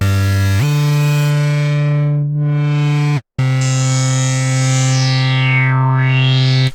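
An Omnisphere synth patch plays a loud sustained buzzy chord while a low-pass filter cutoff is swept by knobs, the brightness dipping and rising in a slow swoop, cut by one brief silence.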